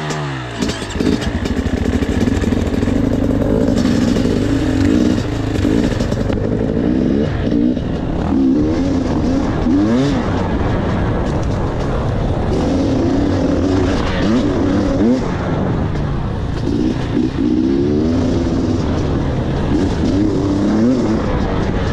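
An enduro motorcycle takes a slow lap, its engine droning steadily and loudly throughout with gentle rises and falls in revs as it rides, close by and with no talk over it.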